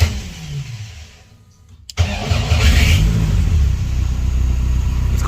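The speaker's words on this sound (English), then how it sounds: "It's gonna be cold start, so here we go." Cold start of an SRT-4 engine swapped into a street car: after a fading crank and a short quiet gap, the engine catches abruptly and settles into a loud, close, rumbling idle with some revving.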